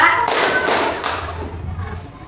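Children in a classroom clap in unison during a counting clap game, a few loud, rhythmic group claps close by that fade into room noise.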